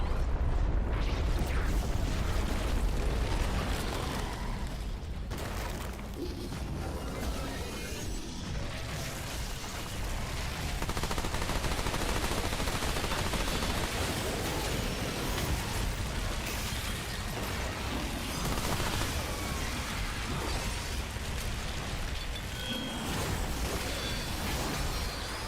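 Gunfire in the Remnant 2 video game comes as dense, continuous bursts of shots and booming impacts, loud and unbroken for the whole stretch.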